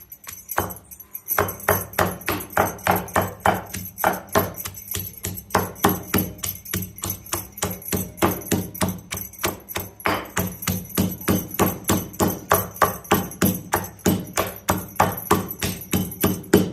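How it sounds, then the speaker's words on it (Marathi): Chillies are pounded in a kitchen to crush them for Rajasthani kadhi, giving a long run of sharp, hard thuds in a steady quick rhythm, close and loud, with brief pauses between bursts and no talk. "पहिल्यांदा मिरच्या कुटून घ्यायच्या."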